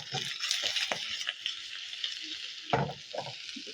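Garlic cooks in melted butter in a pan with a steady broadband sizzle, broken by a few close scrapes and stirring knocks, the loudest around the middle and near the end.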